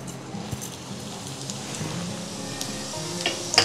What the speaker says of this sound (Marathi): आता हे आपलं तेल तापत आलेलं आहे। आपण जे टाकणार आहे जिरा